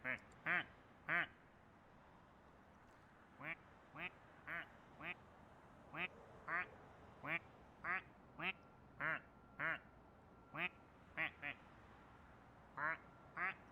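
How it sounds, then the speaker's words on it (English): A duck quacks about twenty times in short, evenly spaced bursts, with a brief pause early on, close and clear against a quiet background. "I'm trying to listen to its quacks to see if like they shift a little bit"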